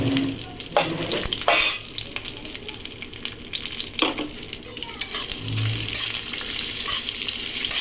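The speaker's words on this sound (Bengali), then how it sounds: "আমি এটা এবারে ভেজে নেব।" Cashews and raisins frying in ghee in a pan, a soft continuous sizzle with occasional sharp stirring scrapes and clinks, close and moderately loud, no talking.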